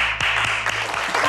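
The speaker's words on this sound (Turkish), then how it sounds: "Hadi alkışlayalım." A small group claps briefly in a room, a few distinct hand claps over a steady background hum.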